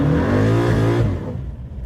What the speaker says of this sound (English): Did I do a burnout right next to him with his own car?